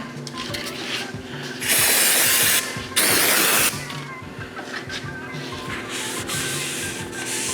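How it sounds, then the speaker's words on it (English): Brake cleaner is sprayed onto the dies of a KA-75 press in two loud, close aerosol bursts of about a second each, surrounded by quieter shop clatter and mechanical handling sounds. "We want to clean it with brake clean again."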